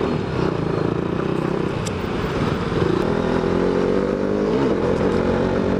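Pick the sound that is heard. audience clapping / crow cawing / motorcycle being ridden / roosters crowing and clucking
motorcycle being ridden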